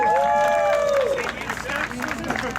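A crowd at the Concours d'Lemons car show in Greenwich, Connecticut applauds an award winner, clapping and light cheering mixing with a talking voice and a tonal sound at the start.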